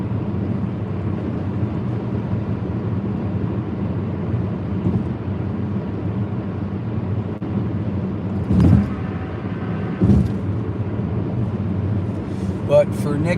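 A car cruises along a smooth highway through Ohio country land, its steady low road drone filling the cabin, broken by a couple of soft thumps near the end.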